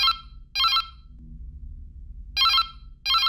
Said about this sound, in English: When the phone rings, wait for the second ring.